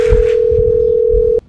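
A loud, steady telephone dial tone, one continuous hum that holds for over a second before cutting off abruptly with a click.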